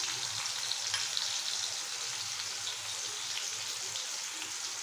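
Garlic paste frying in hot oil with chopped onion while cooking fish, a steady dense sizzle and crackle close up that holds evenly throughout.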